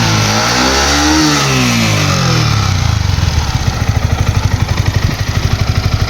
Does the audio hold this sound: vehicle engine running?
yes